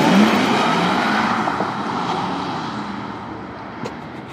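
A Porsche accelerating hard on a race track, engine roaring loudly and steadily close by, the sound easing slightly as it pulls away over a few seconds.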